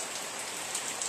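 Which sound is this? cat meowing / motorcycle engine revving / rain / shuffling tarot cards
rain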